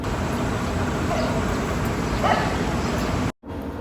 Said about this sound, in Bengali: বুঝতে পারছি না কুকুরগুলোর সমাবেশটা ঠিক কোন সাইডে হবে